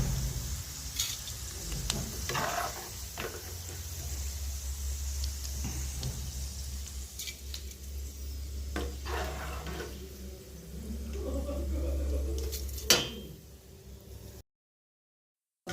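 Potatoes frying in oil give a continuous crackling sizzle with occasional sharper pops and clatters of stirring, over a low steady hum, ending abruptly in silence.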